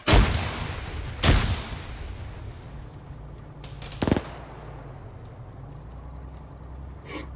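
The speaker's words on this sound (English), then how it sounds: "Throwing frags on the gas station." Frag grenades explode at a gas station in the military shooter game Arma 3, two sharp booming blasts followed by a softer distant one, with rumbling tails and no talk.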